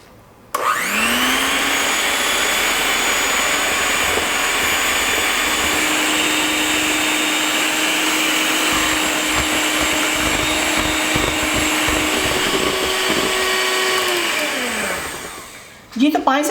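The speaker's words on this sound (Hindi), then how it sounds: "बीटर की मदद से इसको मिक्स करूँगी।" An electric beater whirs steadily through besan batter for dhokla, a loud continuous motor drone that starts abruptly, holds for about fifteen seconds, then winds down and stops.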